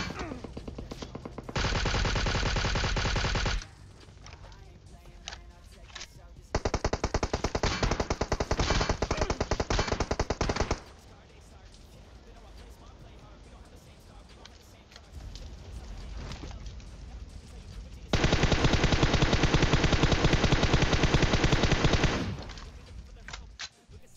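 Gunfire in the video game PUBG Mobile during a surprise attack in the open: several sustained bursts of rapid automatic fire, loud and dense, separated by quieter stretches, with a player talking now and then.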